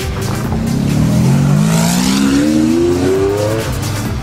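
A sports car's engine revs up close, its exhaust note rising steadily in pitch as it accelerates, loud and throaty throughout.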